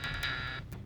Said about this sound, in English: Uh-oh, there's the door.